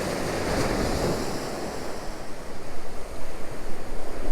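Gusty wind swirls around an open-air fishing spot, a steady roar of moving air that settles into pulsing buffets against the microphone, with no talk.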